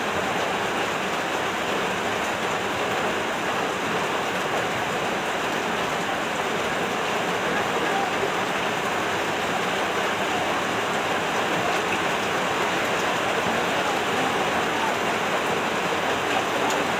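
Heavy typhoon rain pours steadily outside a house while floodwater rushes, a dense unbroken hiss that stays loud and constant throughout.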